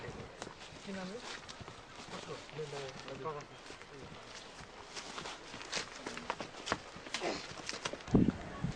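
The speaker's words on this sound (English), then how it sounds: "With flashlights in hand, the porters led the horses across the pass one at a time." Horses led one at a time across a high mountain pass at night, faint hoof clops and footsteps under narration and ambient noise, with a louder knock near the end.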